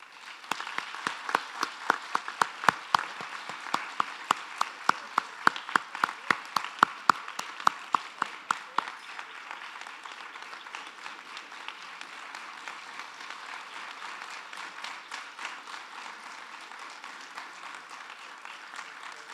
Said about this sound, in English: Let's give another round of applause to these inductees